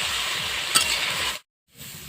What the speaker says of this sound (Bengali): দেখুন তেলের ভিতর আমি এখন আলু, এই দেখুন আমি আলু ভাজা করে নিচ্ছি।